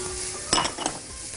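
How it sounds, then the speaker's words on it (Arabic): Carrots and mixed vegetables sautéed in a pan for a carrot mujaddara, a steady sizzle with a few quick scrapes and clinks of a utensil stirring near the middle, no talking. "واحنا بنشوح الخضار كده"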